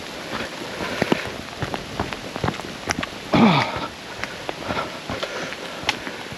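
Steady heavy rain patters on a surface in Saint-Étienne-de-Tinée in the Alps, with scattered heavier drops and a brief louder rustle partway through.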